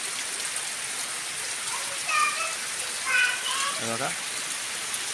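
Monsoon rain in rural Konkan falls as a steady faint hiss, with a few brief distant voices or calls over it and a person speaking briefly.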